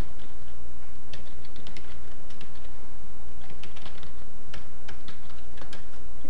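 Steady run of quick key presses on a computer keyboard, close and fairly loud, irregular taps with short pauses, no voices.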